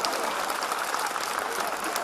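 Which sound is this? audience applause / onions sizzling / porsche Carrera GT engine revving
audience applause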